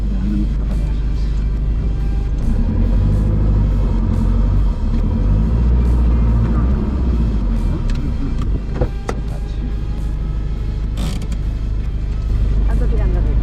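A 4x4 vehicle's engine rumbles steadily as it reverses on a remote African track, with mechanical creaks and clunks throughout and voices talking over it.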